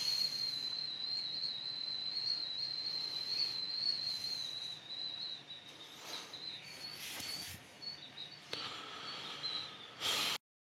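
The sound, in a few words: whistling noise in the background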